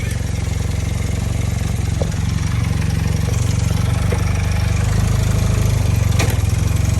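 A Honda Quicksilver moped, restored after sitting for 37 years, runs steadily during a clutch test. Its engine holds a close, loud, even drone for the whole stretch, with only faint ticks and rattles on top and no talking.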